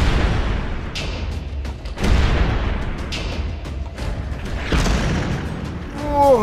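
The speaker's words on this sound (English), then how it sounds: "Fire the cannons!" Potato cannons in a Minecraft MC Eternal modpack pirate-ship battle fire a rapid series of deep, loud booms over a few seconds, irregularly spaced, with a rumbling tail and no talk.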